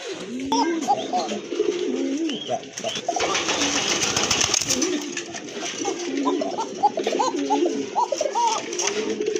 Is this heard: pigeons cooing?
yes